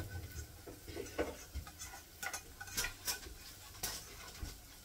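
Hamburger and onions go into a pot, giving soft scattered clinks, scrapes and faint sizzling taps at low level, with no talk.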